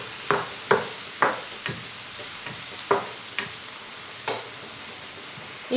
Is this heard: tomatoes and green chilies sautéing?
yes